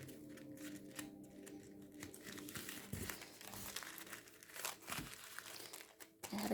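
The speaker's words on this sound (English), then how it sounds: "take the whole stack and fold it in half" A stack of paper coffee filters being folded in half for making carnation paper flowers, producing close, soft crinkling and rustling with a few sharper creases, fairly quiet and continuous.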